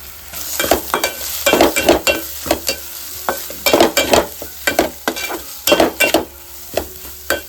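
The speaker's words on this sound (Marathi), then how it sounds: "चांगलं भाजून घ्यायचं आपल्याला ह्याला वाटण कच्चं असतं ना ते थोडं शिजवून चांगलं तेलामध्ये चांगलं भाजून घेतलं ना चव छान लागते" Masala paste with turmeric roasting in oil for a crab curry, sizzling under a series of loud, rhythmic scraping strokes of a spoon against the pan, stirring in bursts with short pauses.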